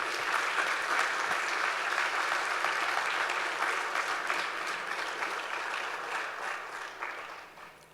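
A large church congregation applauds steadily for several seconds, a dense wash of clapping that gradually fades toward the end.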